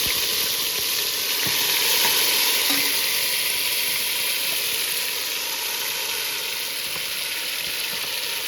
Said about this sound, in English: I let that marinate for a little while before I sauteed it in the caramelized sugar in